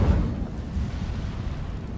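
Incendio fire spell cast in Hogwarts Legacy, a deep rumbling whoosh of flame that bursts loudly at once and then rolls on as a low, roaring burn before easing slightly, with no voices heard.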